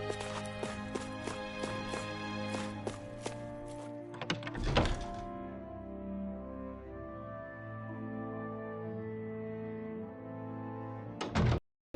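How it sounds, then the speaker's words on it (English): Hammers bang in the town of Calaglia in the video game Tales of Arise, a run of irregular knocks and thunks over steady background music, with one heavier hit near the middle. "I always loved the sound of hammers banging away."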